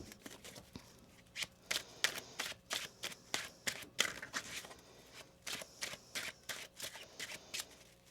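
Tarot cards are shuffled close by in a rhythmic series of crisp riffles and flaps, repeating steadily with brief gaps between each pass.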